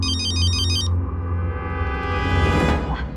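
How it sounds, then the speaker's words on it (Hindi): A mobile phone ringtone sounds for an incoming call: a bright repeating electronic chime plays first, then a fuller melodic tone swells over a steady background, loud and continuous with no talking. "प्रियंका के डैडी का फोन आ रहा है"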